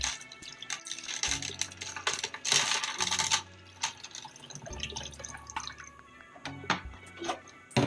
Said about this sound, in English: I'm going to pour this all in here now.